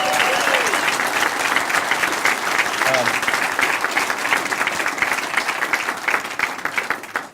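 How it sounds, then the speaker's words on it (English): Sustained, loud crowd applause for event hosts at a campaign gathering, steady dense clapping throughout with a few voices and cheers underneath. "Let's give them a big round of applause."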